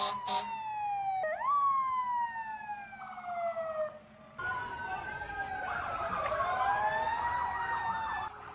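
Fire truck sirens wailing through a town parade on Old Hallowell Day in Hallowell, Maine, rising and falling in overlapping sweeps, loud and close, with a yelp-like warble joining later and a brief break partway through.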